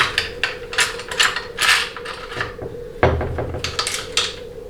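A hand ratchet tightens a 15 mm bolt on a 4L80E transmission during a teardown, rapid clicking bursts in quick repeated strokes, close and fairly loud, with a short pause midway and no talking.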